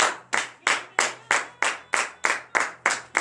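A worship congregation claps in a steady, even rhythm, about three sharp claps per second, loud and close, with no voices over it.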